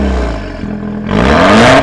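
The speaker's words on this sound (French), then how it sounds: "Maintenant, on va juste écouter la sonorité du moteur." A Peugeot 308 GTi 270 hp engine idles with a steady low rumble, then revs up sharply, rising in pitch and loudness, close by.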